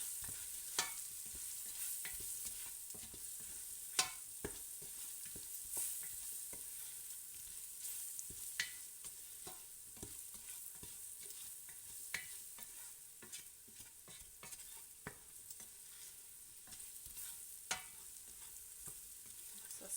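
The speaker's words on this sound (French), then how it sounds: "Alors on mélange bien les épices." Spices such as ras el hanout are stirred in a frying pan for vegetarian lentils, a soft, continuous sizzle broken by repeated spoon scrapes and taps against the pan, quiet and close, with no talking.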